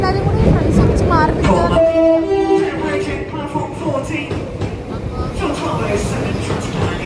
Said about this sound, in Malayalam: അപ്പോൾ ഞങ്ങൾ മാഞ്ചസ്റ്റർ പിക്കാഡിലി റെയിൽവേ സ്റ്റേഷനിലാണ്